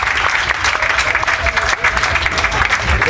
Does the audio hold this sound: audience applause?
yes